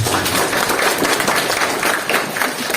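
A health seminar audience claps together, a dense continuous patter of many hands filling the short stretch at an even, fairly loud level.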